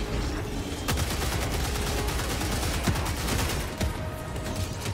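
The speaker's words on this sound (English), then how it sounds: "I've got mortars going" Mortar sentry firing in Helldivers 2, heavy booming shots and rumbling blasts layered in a continuous barrage, loud and dense with a couple of sharper distinct hits.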